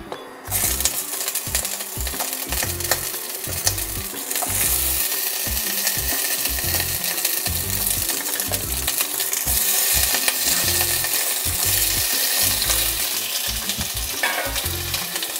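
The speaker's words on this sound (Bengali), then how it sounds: "পেঁয়াজ ক্যাপসিকামটা একদম হালকা লাইট করে ভেজে নেব, একদম কিন্তু লাল লাল করব না, একটু হালকা করে একটু নাড়াচাড়া করে নেব।" Onion and capsicum fry gently in hot oil for a soya tikki masala, giving a loud, steady sizzle with rhythmic scraping and stirring strokes throughout, close up and with no talking.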